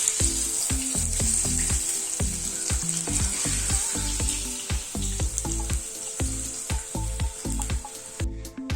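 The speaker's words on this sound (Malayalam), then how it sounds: "മീൻ വറുത്തിട്ട് ഇവിടെ വെച്ചിട്ടുണ്ട്." Kingfish pieces shallow-frying in a pan for a fish masala, a dense loud crackling sizzle with spatters and occasional stirring or turning clatter, close and continuous with no talk.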